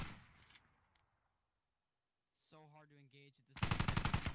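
Gunfire in the military shooter game Squad: a faint burst at the start, a short lull, then heavy rapid automatic fire swelling loudly near the end, with a voice briefly audible in between.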